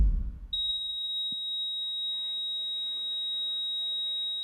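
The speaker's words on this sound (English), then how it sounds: "Just now when you are listening very intently, you hear beeping." A single steady high electronic beep from a monitor holds continuously after a short thump, sounding clear and close over faint background room noise.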